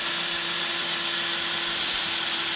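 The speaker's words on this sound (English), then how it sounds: "I could just drill forever and it won't go any deeper." A power drill whirs steadily at high speed close by, spinning freely in a wall stud hole without going deeper, a constant motor whine with no pauses and no speech.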